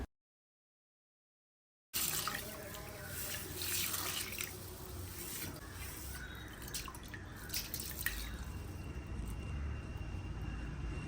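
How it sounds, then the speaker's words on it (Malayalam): Rice being washed in water in a home kitchen, several rinses before going into a pressure cooker: steady close sloshing and trickling water with small drips, continuous after a brief silent start, no talk. "അപ്പോൾ അത് നന്നായിട്ടൊരു 4-5 വെള്ളം ഒന്ന് കഴുകിയെടുക്കാം."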